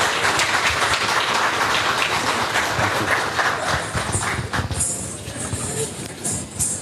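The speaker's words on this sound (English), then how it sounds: "Another round of applause, please." Sustained, dense applause from an audience at a cultural program of a business forum, steady clapping that thins slightly toward the end.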